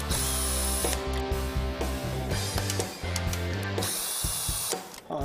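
Ratchet clicking steadily while removing transmission pan bolts on a 2000 Ford F250, a fast, close, mechanical rattle that runs in bursts with short pauses and no talk over it.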